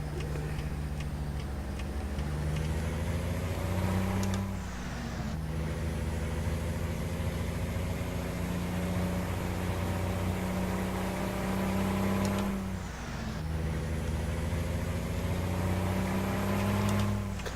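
A Peterbilt 389 engine drones loud and steady in American Truck Simulator, rising in pitch through the gears with brief dips at two shifts.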